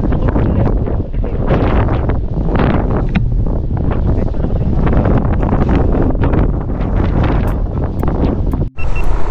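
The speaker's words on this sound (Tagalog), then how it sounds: "Kahit malakas yung hangin." Strong storm wind at Patapat Viaduct, Ilocos Norte, roars and buffets the microphone continuously, a loud rumbling rush with gusts that barely let up, ending in a brief dropout.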